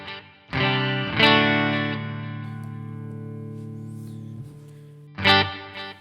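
Guitar played through a NUX Amp Academy amp with reverb on, strummed chords ringing out and sustaining into a reverb tail, followed by another strum.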